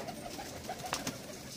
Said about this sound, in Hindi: आज की उड़ान के सारे कबूतर जो लौट के आए हैं।